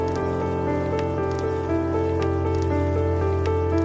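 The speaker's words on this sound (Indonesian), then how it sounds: "sampai hujannya reda" Rain falls as a steady, even hiss that lasts the whole time, blended with sustained tonal sounds and no pauses.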